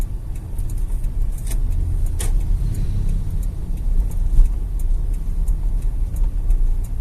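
A Toyota Innova petrol car's engine runs steadily, a loud, low, even hum with faint ticking on top, heard from inside or close by with no talking.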